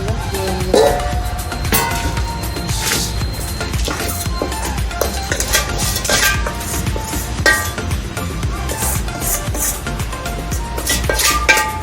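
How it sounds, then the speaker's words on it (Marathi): Warm chakli dough made from bhajani flour is moved into another vessel and kneaded, giving busy clatter and scraping of metal pots and utensils with sharp clinks and knocks throughout, loud and close. "आता आपण हे एका दुसऱ्या भांड्यात काढून घेऊया आणि चांगलं मळून घेऊया."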